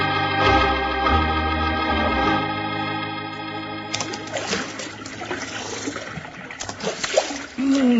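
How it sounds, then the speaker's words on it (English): Water splashes and trickles from a cool mountain stream as a radio drama effect, following a sustained musical chord; the splashing runs continuously and fairly close, with a few brighter splatters near the end. "You know, Bill, there just ain't nothing to beat a nice long swig of fresh water out of a cool mountain stream."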